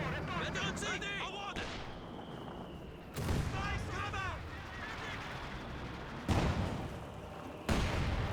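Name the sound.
artillery barrage in the video game Company of Heroes 2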